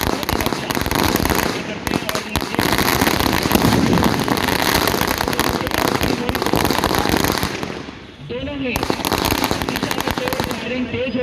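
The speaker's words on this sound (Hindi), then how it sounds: "फायरिंग तेज हो चुकी है" Rapid crackling gunfire bursts fill an NCC Day combat demonstration in Rajnandgaon, continuous and loud, with a brief lull before the shots resume.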